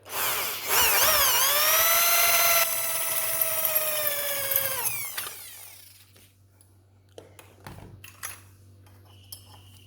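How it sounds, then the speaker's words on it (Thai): A power drill bores a hole before a thread is tapped for a spring. It gives a loud, steady whine for about four seconds, then spins down, followed by faint metallic clinks. "เริ่มจากเจาะก่อน เจาะก็พอประมาณนะครับ เราต้องดูขนาดความ ายาวของสปริงด้วยนะครับ เจาะไปเลย"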